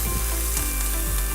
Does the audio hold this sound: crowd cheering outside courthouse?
no